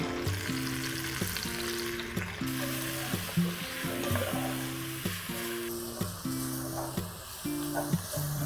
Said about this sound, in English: So as we can see, the onions are caramelized really nicely.